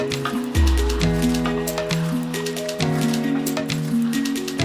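Chicken and a small tomato stirred in a pan for chicken kasha give soft squishing and light sizzling, with scraping touches over steady tonal background sound.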